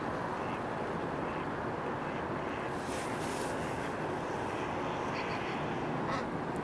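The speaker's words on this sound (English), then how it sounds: "every morning there's a chorus of quacks and honks" Ducks quack and geese honk on the Bow River, small calls scattered over a steady loud background rush of traffic-like noise.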